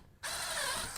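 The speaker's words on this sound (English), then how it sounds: "I'm going to drill a pilot hole." A power drill with a tapered bit bores a pilot hole in very soft material while building a garden basket, giving one steady, close whirring burst that lasts under a second and then cuts off.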